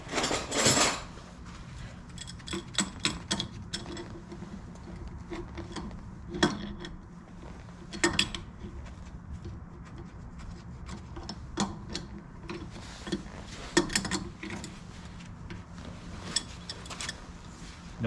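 A wrench takes the nut off the front brake of a 1971 Volkswagen Super Beetle during a disc brake conversion, making close metallic clicks, ratcheting ticks and clinks in irregular bursts.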